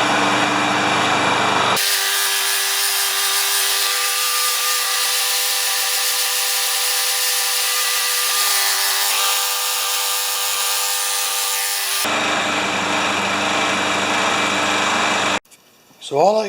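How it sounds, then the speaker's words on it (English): A worn-out Craftsman riding mower engine runs at a steady, loud drone close by for about ten seconds, its hum and rattle holding constant before the sound changes near the end. "So all I can say about this motor is that I got it running."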